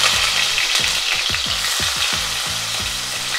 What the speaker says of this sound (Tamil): இப்போ வெங்காயம் வந்து நல்லா பொன்னிறமாக மாறுற அளவுக்கு உடக்கிக்கணும்